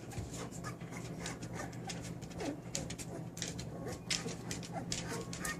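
Three-week-old puppies whimpering softly and panting close by, with faint high squeaks over a steady low hum.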